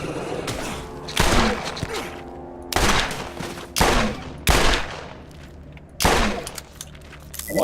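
Loud bursts of gunfire in Borderlands during a fight against a large armored creature, five or six sharp volleys spaced a second or so apart, each ringing out with a metallic tail over a low mechanical background.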